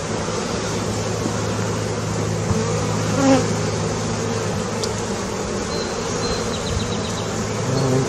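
Honeybees buzz steadily around an open Italian hive during a July inspection, a dense close drone with individual bees passing near, continuous throughout.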